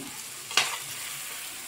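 Eggs added to ponnaganti leaves frying in a pan, with one brief scrape of stirring over a steady low sizzle.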